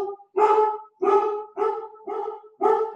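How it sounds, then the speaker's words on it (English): Pet dogs at home bark in five sharp, evenly spaced bursts about half a second apart. The barking is close and loud, and no one speaks. "they normally stop barking when I yell at them to shut up"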